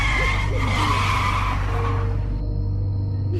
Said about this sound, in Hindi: अचानक गाड़ी एक झटका देकर रुक गई